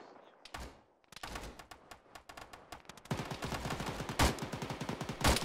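Rapid gunfire erupts in the Arma military shooter, with single shots giving way to dense automatic bursts that grow louder and sharper, including a few heavy cracks near the end, with no talking.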